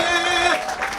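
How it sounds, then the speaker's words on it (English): Brief burst of clapping and crowd cheering at the start of a podcast episode, loud and close, fading slightly within a second amid excited voices. "round of applause"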